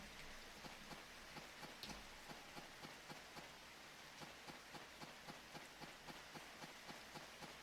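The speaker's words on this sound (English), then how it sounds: "At least with all this rain, I don't have to water my crops as much." Steady rain hisses faintly in Harvest Moon DS, with a soft, even tapping that repeats throughout.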